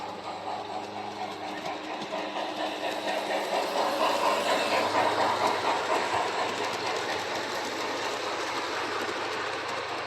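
A model train runs along a track on an outdoor deck, a steady clickety-clack rhythm of wheels over rail joints with a mechanical whir, swelling slightly mid-run and then holding even.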